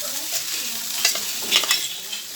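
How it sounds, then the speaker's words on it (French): Vegetables fry in a pan, a close steady sizzle broken by a few sharp spatula scrapes and pops, with no talking. "Et je poursuis la cuisson de mes légumes."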